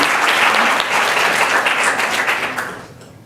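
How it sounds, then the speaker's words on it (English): During a school board business meeting, an audience bursts into a loud round of applause, thick continuous clapping close by that dies away over the final second. "Let's hear a round of applause for Aiden."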